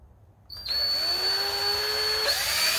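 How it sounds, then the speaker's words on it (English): A power drill whirs up to a steady high whine and runs continuously, close and loud, with a slight pitch shift near the end. "Oh, we're doing some drilling now."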